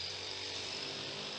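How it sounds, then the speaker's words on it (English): A grass trimmer engine drones steadily as it cuts grass nearby in a village churchyard, a constant high buzzing hum that stays even and fairly faint for the whole moment, with no talk. "man trimming the grass nearby, if you can hear engine noises in the background."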